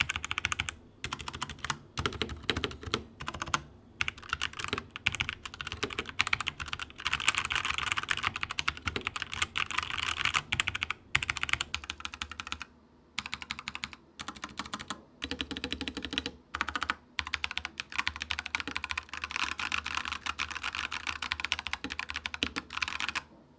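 Steady, fast typing on an Akko Ocean Blues budget mechanical keyboard, dense clacky keystrokes with brief pauses, close up and continuous for a long stretch.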